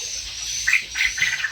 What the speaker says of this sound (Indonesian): Burung punai namanya.